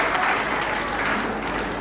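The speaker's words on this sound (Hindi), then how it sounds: "तो सब अपने लिए भी आज ताली बजाएंगे" Audience applause at a museum inauguration ceremony, a dense, steady wash of clapping from a sizable crowd that holds at an even level throughout.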